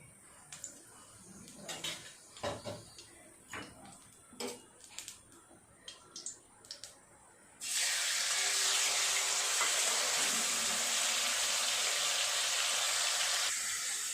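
After several light clinks and taps, shrimp go into hot oil in a pan for a Bengali kochu shak dish, and a loud, steady frying sizzle abruptly fills the second half.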